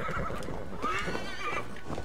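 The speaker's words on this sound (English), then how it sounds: "Oh, it's a horse." A horse neighs and whinnies in the video game Assassin's Creed Valhalla, the loud, close calls rising and wavering over hoof clip-clops and busy game ambience.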